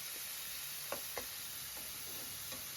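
Chopped tomatoes frying in oil in a pan for a spicy tomato bath, giving a soft steady sizzle with a few light stirring clicks and taps, quiet and close, with no talking.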